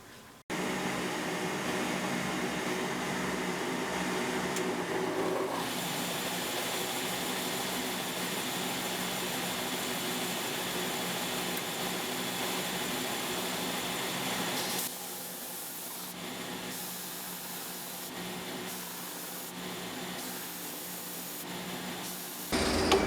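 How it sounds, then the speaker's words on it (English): Steady, close abrasive rasping and whirring persists for the whole stretch, shifting in tone partway through, like a power sander working wood. "So the next step is the actual sanding."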